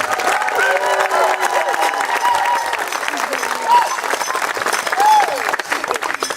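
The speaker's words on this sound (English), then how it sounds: "Everybody a round of applause for Miss B." An audience at a pageant gives a round of applause for a performer; dense, steady clapping and some cheering fill the whole stretch, loud and continuous, with voices mixed in.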